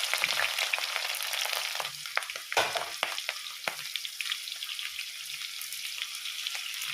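Fenugreek, chopped ginger, garlic and green chillies frying in hot coconut oil for a Kerala-style fish curry, with a steady close sizzle and irregular scraping as a spoon stirs the pan.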